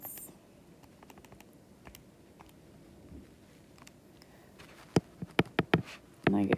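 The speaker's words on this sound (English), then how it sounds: "So again, typing it all in at once." Keys on a calculator tap faintly at first, then a quick burst of sharp, close presses comes near the end, with quiet background sound between.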